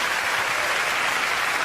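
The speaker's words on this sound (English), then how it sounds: "You can applaud if you wish." Comedy show audience applauds in a dense, even burst of clapping that holds steady throughout, with no voices over it.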